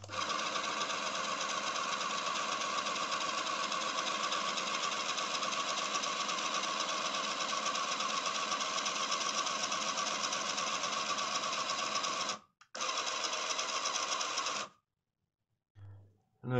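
ZX Printer connected to a ZX Spectrum Next printing a screenshot, a steady buzzing mechanical whir that runs continuously for about twelve seconds, breaks briefly, resumes, then stops with a short final burst.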